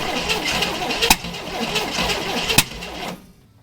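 A long-dormant Chevrolet Corvair engine cranks and sputters on a restart attempt after fresh fuel, a rough, uneven churning with two sharp pops before it cuts out into near silence.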